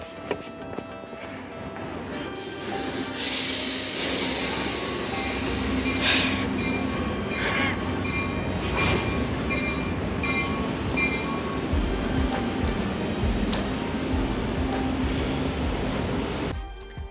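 A light rail train in New Jersey departs a station, its steady rolling rumble and wheel noise filling the scene with brief high squeals and clatter, loud and close throughout, with no talking.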